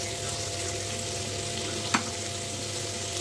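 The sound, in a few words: carrots and beans sautéing in pan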